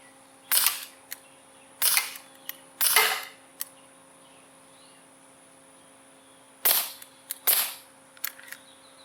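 Gamo P-430 dual-ammo CO2 air pistol firing pellets at about 30 feet: a string of sharp, loud cracks, some paired closely, others spaced seconds apart, each leaving a short echo over a steady hum.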